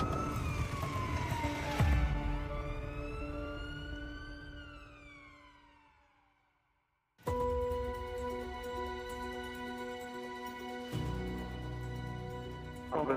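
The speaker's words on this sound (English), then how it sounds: "They are coming to you with blue lights and sirens as fast as they possibly can." An ambulance siren sweeps up and down in pitch and fades to near silence, then a second loud, steady two-tone siren blares close by, with engine rumble joining at the end.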